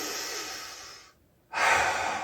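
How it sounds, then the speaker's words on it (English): One deep breath drawn in slowly through the nose, close and clear, followed by a short pause and then a louder, breathy exhale. "take a deep breath in"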